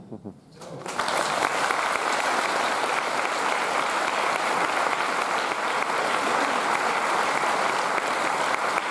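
Dense audience applause at a film festival preview screening, a thick roar of many hands that swells in after a brief quiet moment and holds steady and loud to the end.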